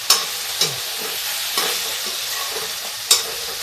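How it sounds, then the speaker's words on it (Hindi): Spinach and potatoes frying in a pan for a fasting dish, a steady loud sizzle broken by several sharp scrapes of stirring and turning, with no talking. "तो दो चार बार उलट पलट लेंगे कि ये बिल्कुल पालक जो है पक जाएगी"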